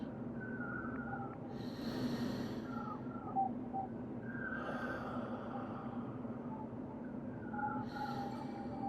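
Slow, breathy exhalations during a guided breathing exercise recur every few seconds, soft airy whooshes over a faint steady background hum, close by and unaccompanied by speech.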